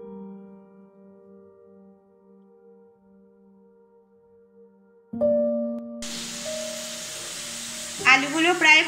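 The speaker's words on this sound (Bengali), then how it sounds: "আলুগুলো প্রায় ভাজা ভাজা হয়ে গেছে" Potatoes frying in oil break into a loud, close sizzle after a few seconds of quiet tonal hum, and the hiss keeps going as a voice briefly speaks over it near the end.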